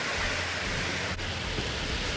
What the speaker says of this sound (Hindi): अभी तो बारिश बारिश और बारिश।